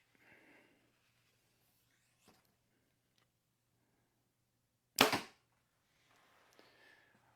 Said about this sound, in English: let's give you a shot just so you can see what the draw cycle looks like on the new Persist